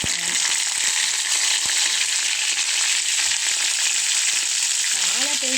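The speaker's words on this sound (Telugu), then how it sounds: "ఈ బెండకాయలు ఇలా వేసుకోవాలి" Sliced okra crackles in hot coconut oil, a loud, dense and constant frying hiss that fills the whole stretch without pause, close up, with a faint clink or two beneath.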